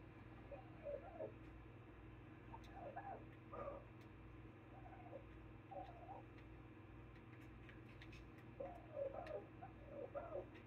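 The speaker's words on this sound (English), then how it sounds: "Those birds you hear, those are dodos." Dodo birds in the video game Ark call in short, repeated cooing and clucking bursts, faint over a constant low ticking hum of game ambience, with no talking.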